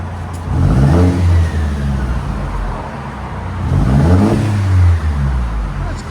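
A 2012 Mercedes C250 with its muffler deleted revs twice, each blip rising in pitch and then falling back to a steady, loud, close idle rumble.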